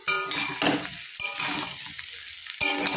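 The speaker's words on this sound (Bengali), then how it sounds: "যতক্ষণ মশলার গন্ধটা না যাবে ততক্ষণ আমি কষাতে থাকবো" Spices and ginger sauté in a pan with a continuous sizzle, broken by repeated bursts of scraping as the mixture is stirred and turned.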